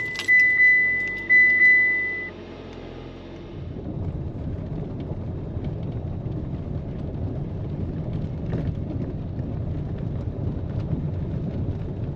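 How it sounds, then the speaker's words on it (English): Car keys jangle and two chimes sound inside a Mitsubishi Outlander Sport before the engine cranks and settles into a steady low idle that continues to the end. "we're going to go ahead and start up the car and see what lights come on"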